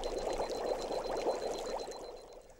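Water comes to a boil, a dense, steady bubbling and hissing with a faint high whine above it, close and moderately quiet, easing slightly toward the end.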